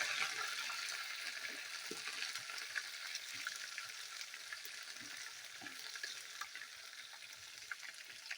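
Browned onions fry in a pan with green chilli and garlic paste in a village-style kitchen, giving a soft, steady sizzle with faint crackles and occasional stirring scrapes, quiet and without talk.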